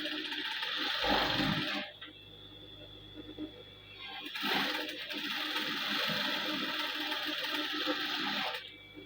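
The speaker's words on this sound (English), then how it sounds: "let me take it to my sewing machine and sew it" Sewing machine stitching fabric for a turban cap, two sustained whirring runs of fast mechanical chatter, close and moderately loud, with a brief pause between them.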